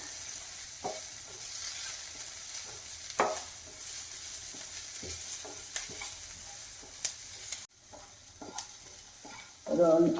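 Onions and green chillies fry soft in a pan with a low, steady sizzle, broken by occasional scrapes and knocks of a spoon stirring, for masala dosa filling.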